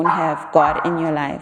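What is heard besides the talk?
dog barking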